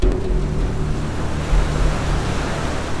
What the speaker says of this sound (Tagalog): Sa taas at bilis ng agos ng tubig, halos tangayin na ang mga guro